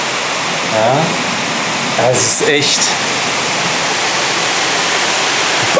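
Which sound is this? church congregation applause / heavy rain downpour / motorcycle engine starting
heavy rain downpour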